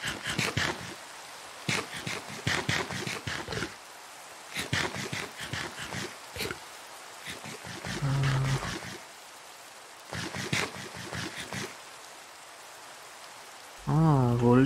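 Steady rain falls in Minecraft 1.18, a constant soft hiss running throughout, broken by frequent bursts of a nearby voice talking over it.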